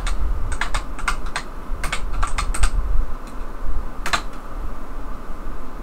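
Close, loud typing on a computer keyboard, tapped in quick irregular bursts of keystrokes with short pauses, over a steady low background hum.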